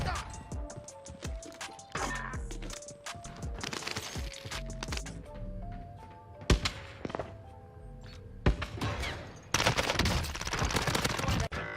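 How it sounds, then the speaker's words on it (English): CX-9 submachine gun fire in a Warzone match, short, sharp automatic bursts broken up by pauses and mixed with other game sounds and tones. "Taking shots. Receiving hostile fire."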